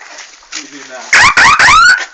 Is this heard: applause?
no